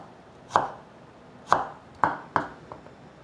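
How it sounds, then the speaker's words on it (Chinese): A knife cuts a carrot into thin julienne strips on a cutting board, giving four sharp, isolated chops at uneven intervals with quiet gaps between, plus a faint final tap. "先切片， 排整齐，切细丝。"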